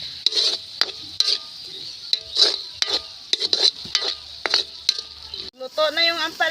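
Bitter gourd (ampalaya) sizzles in a pan while a utensil stirs it, scraping and clinking against the metal in quick irregular strokes, loud and close.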